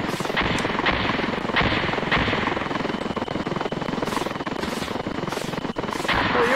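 A helicopter in the video game Intruder keeps up a loud, steady rotor throb from start to finish, with a few sharp percussive cracks near the end that could be gunfire.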